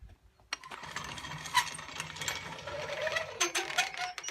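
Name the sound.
trailer winch ratchet tensioning the mast line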